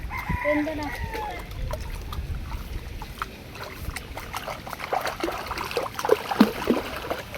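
Chickens cluck and a rooster crows around a village pond in rural Bangladesh, mostly mid-distance, over a steady wash of water and splashing, while people talk nearby.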